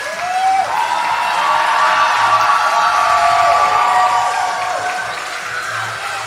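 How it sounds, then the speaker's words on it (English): Crowd cheers, whoops and shouts at an acrobatics and tumbling conference final, a steady, loud arena roar sustained for about six seconds with a few higher yells rising above it. "it's really cool to see them here and cheering on"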